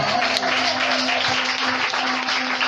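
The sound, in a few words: church congregation applauding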